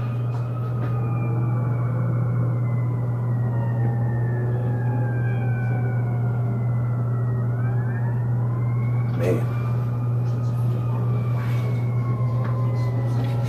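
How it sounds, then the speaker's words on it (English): Ambulance sirens wail and sweep up and down as they pass along a busy Las Vegas street, loud and continuous over a heavy low traffic hum, with a few sharper bursts partway through. "There goes another ambulance up there."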